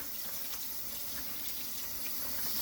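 Dandelion greens being washed in a pan of water, a continuous soft splashing and trickling close by with no voice.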